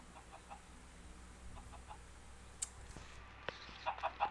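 Chickens on a Minecraft chicken farm cluck in a few short, quick bursts toward the end, over a quiet, faintly noisy background with scattered soft clucks earlier and no talking.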